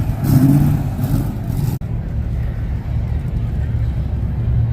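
A car leaving a local car show revs its loud engine, a strong throaty roar that swells early, cuts off sharply, then settles into a lower rumble. People talk nearby over it.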